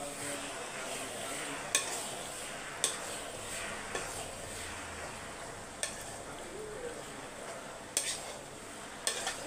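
Pasta being stirred in a very hot pan on low heat, with soft scraping and light sizzle underneath and a few sharp utensil clicks against the pan spaced through the mix, close and fairly quiet.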